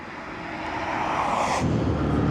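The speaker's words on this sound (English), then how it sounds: "I can see a Vulcan bomber and a plane landing overhead" Light aircraft passing low overhead while landing at Wellesbourne airfield, its engine drone swelling steadily louder and nearer, with a broad rush building toward the end; no talking.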